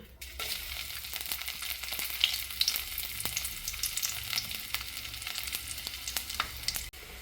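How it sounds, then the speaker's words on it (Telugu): Crushed garlic fries in hot oil with mustard seeds, giving a steady close sizzle scattered with sharp spluttering pops and the occasional clatter of stirring, with no talk. "ఆవాలు చిట్టుపట్లు అడేసాయి కచ్చా పచ్చగా దంచి పెట్టుకున్న తెలగడ్డ ముక్కలు వేస్తున్నా"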